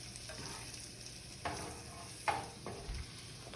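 Chicken breast fries in a pan for pad thai, a low steady sizzle broken by a few soft scrapes as it is stirred around, close and fairly quiet.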